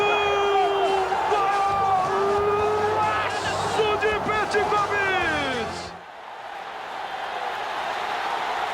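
A Flamengo football crowd at the Maracanã roars and cheers after a goal, a loud sustained mass of voices with rising shouts, fading after about six seconds into quieter crowd noise.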